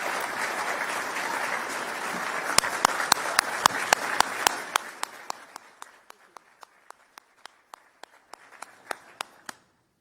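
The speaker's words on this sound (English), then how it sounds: "round of applause." Audience applause at a Florida political event with Gov. DeSantis, a dense round of clapping that thins into scattered individual claps and fades over several seconds, with a voice faintly under it.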